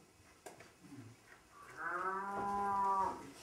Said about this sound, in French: Vous venez d'entendre la vache sacrée que j'ai reçue des Indes.